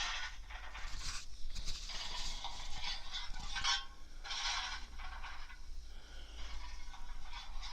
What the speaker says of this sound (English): So let's start with coal shoveling